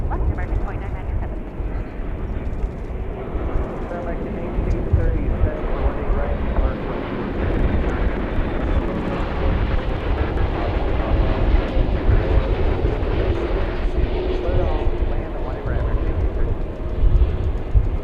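An American Airlines airliner lining up on runway 18 left at Dallas Fort Worth airport, a loud, continuous jet engine roar that swells slightly over time, with talk over it.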